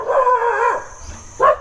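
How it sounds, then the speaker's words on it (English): A temple dog at a Northern Thai-style temple in southern Thailand lets out a long, loud, close howling bark, then after a short pause a second sharp bark. "the temple dogs get used to the people who live here permanently, but whenever a visitor comes they get quite upset and keep barking"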